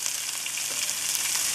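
Chopped onions, green chilies and ginger garlic paste fry with curry leaves in hot oil for a green gram curry, giving a steady, close, even sizzle with no talk.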